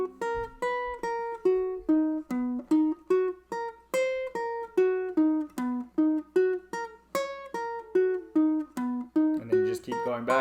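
Plucked ukulele notes in a steady finger exercise, a major 7 flutter variation stepping fingers 1-2, 1-3, 1-4, played alone and up close with an even rhythm of clear, ringing notes climbing and descending.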